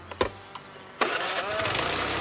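Motorcycle engine starting as a man rides off on it: a couple of short starter clicks, then the engine catches and revs into a steady running drone.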